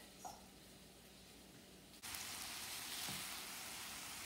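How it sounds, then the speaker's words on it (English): Sausage browning in a pan for freezer breakfast burritos, a soft sizzle that jumps to a louder, fuller crackle partway through as the spatula breaks up the meat, no talking. "We just want to brown this sausage, kind of take our spatula here and crumble it up as it browns."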